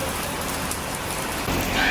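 Rain falls steadily in Georgetown, Penang, a dense even hiss of drops hitting surfaces, continuous and fairly close, with no talking.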